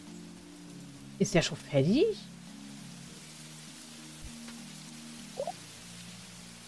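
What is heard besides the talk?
rain falling in video game Monster Harvest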